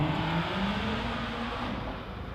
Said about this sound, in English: here comes Ash Mason in the Suzuki Hayabusa powered Westie